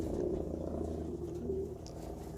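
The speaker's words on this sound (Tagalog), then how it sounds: "ayan po sila mga kalapatids" Pet pigeons coo nearby in a soft, low, rolling murmur that carries on steadily, close and fairly quiet, with no one talking.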